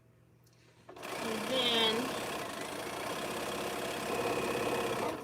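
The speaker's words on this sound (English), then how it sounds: "we're going to sew these top and bottom borders on" A home sewing machine hums steadily as it stitches the top and bottom borders onto a T-shirt quilt, starting after a brief quiet moment and running on continuously while a person speaks over it.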